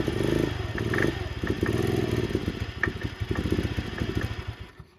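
A motorcycle engine idles close by with a loud, uneven, clattering rumble that sputters and fades toward the end.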